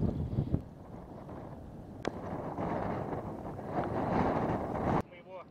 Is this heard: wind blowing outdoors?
yes